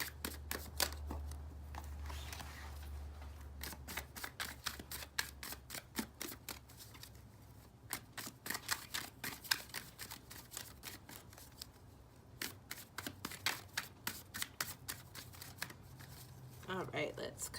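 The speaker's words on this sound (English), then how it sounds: "Let's finish shuffling these cards" Rapid crisp riffling and flicking of cards being shuffled close by, repeated in bursts with short pauses throughout.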